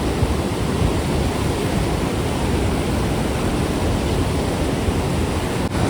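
Water rushes steadily at a dam filled to capacity during the monsoon season, heard as a loud, continuous roar of broadband noise with no pauses.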